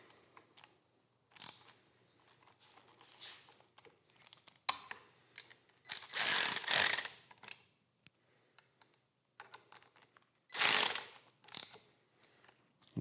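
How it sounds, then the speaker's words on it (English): Ratchet clicks as brake and clutch lever assembly bolts and switch housing bolts are tightened on a 2014-2024 Harley-Davidson Road King handlebar, with short, close bursts of rapid clicking separated by quiet pauses and small metallic handling sounds. "finish tightening up all your brake and clutch lever assembly bolts, your switch housing bolts."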